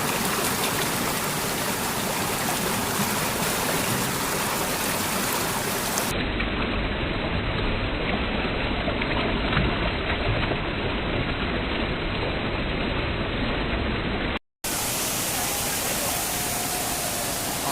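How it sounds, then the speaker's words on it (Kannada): Benki Falls in the rainy season, with water forcing through a narrow rock gap in a forest: a steady, dense roar of rushing water, loud and unbroken, with a brief dropout near the end. "ಆ ಚಿಕ್ಕ ಗ್ಯಾಪೇ ಅಷ್ಟೊಂದು ಫೋರ್ಸಾಗಿ ನೀರು ತೊಗೊಂಡು ಹೋಗ್ತಾರೆ"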